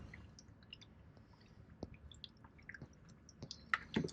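Coolant filling a BMW E92 325i N52 radiator gurgles and bubbles quietly in scattered wet pops and drips, growing a little busier and louder toward the end.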